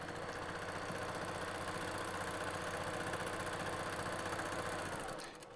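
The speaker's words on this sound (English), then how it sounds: "We're going to sew all the way through here." A sewing machine runs steadily while stitching a fabric tool roll. The fast motor whirr and needle chatter go on without a break, close and even, then slow and stop near the end.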